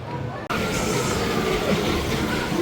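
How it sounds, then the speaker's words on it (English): A Max and Moritz kiddie roller coaster train, themed like a runaway mine train, rumbles along its track with a steady rolling roar and clatter after a brief dip at the start. "This is a duo synchronised kiddie coaster that's kind of like a runaway mine train"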